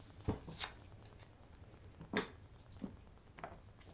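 Paper being torn by hand for a junk journal art page, a few quiet, sharp rips and crinkles spaced apart in a calm room.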